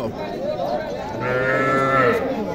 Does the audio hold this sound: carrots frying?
no